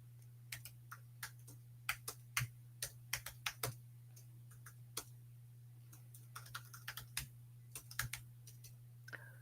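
Typing on a computer keyboard to write a note, sparse irregular clicks and short bursts of keystrokes, quiet and close over a low steady hum, with no talking.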